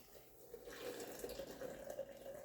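Water poured into a Ninja blender jar, a faint, thin continuous trickle with a slight ringing tone, quiet and close, lasting a couple of seconds.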